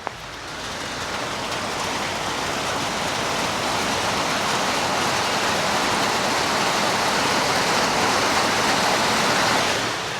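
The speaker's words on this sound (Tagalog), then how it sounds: "pero umuulan na siya." Steady rain falls outside in a dense, even hiss that swells slightly over the first few seconds and then holds constant. It is fairly loud and continuous, with no voices.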